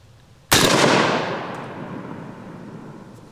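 A single sharp shot from a .308 battle rifle at a shooting range while the scope is being zeroed, loud and close, followed by a long rolling echo that fades over several seconds.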